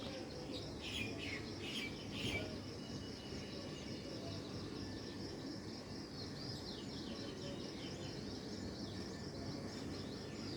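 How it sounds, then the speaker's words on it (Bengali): Birds chirp and call through a dim early morning beside a main road on a market day, bright chattering bursts near the start over steady low traffic rumble and insect hiss. "এই যে শুনতে পাচ্ছেন পাখির ডাক"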